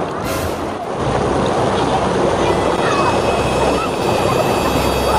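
Loud, continuous rushing water roars close by, a dense wash of noise with a brief splash near the start.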